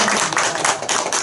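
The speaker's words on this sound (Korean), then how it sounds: "박수 한번 드리겠습니다." A congregation at a Saturday church service bursts into brief, dense clapping, many hands striking together in a loud, continuous burst close by.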